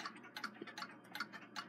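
A Waterbury triple-decker chiming clock ticking close and quiet, a steady even tick-tock of about five beats in under two seconds with no talk.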